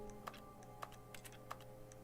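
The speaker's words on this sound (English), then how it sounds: "I like the typing sounds." Faint computer keyboard typing in The Stanley Parable: a few sparse, soft key clicks spaced irregularly over a quiet room hum, with no voices.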